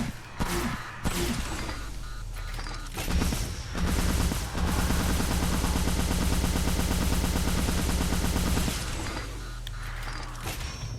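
A minigun fires in Ghostbusters: The Video Game, a loud, continuous rattling stream of rapid shots that holds for several seconds, with brief bursts before and after.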